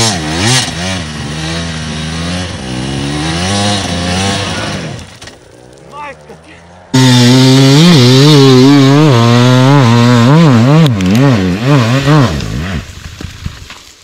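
An enduro motorcycle engine on a Bulgarian mountain trail revs loudly and close, climbing and dropping in repeated surges, then cuts out briefly before roaring back even harder.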